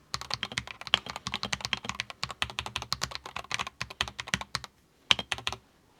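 Rapid typing on an NZXT Function Elite Mini TKL compact keyboard with magnetic switches, a close, crisp stream of keystrokes in an uneven rhythm, a brief pause, then a few final clacks; no voices.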